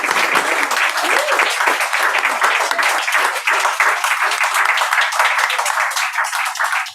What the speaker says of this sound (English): So another big round of applause and massive thank you to John McDonald.